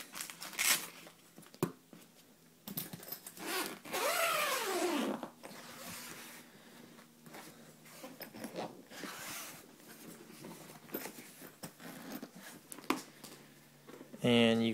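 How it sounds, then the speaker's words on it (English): A trombone case opened by unzipping, from an Edwards Alessi trombone set with a briefcase compartment; zipper and rustling sounds run through the clip, with a long zip drawn around 4 to 5 seconds and a voice speaking intermittently. "let's open the case now."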